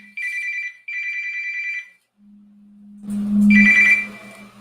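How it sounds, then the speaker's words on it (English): A telephone rings loudly and close in bursts of electronic trilling, two rings then a louder third, over a steady low hum with no talking. "my phone."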